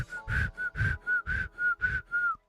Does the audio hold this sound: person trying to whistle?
yes